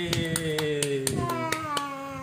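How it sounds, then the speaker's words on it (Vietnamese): Hands clap at home after a child's song: about a dozen sharp claps at an uneven, fairly quick pace, nearby and moderately loud, with a sustained tone and voices underneath. "Rồi hay quá, vỗ tay."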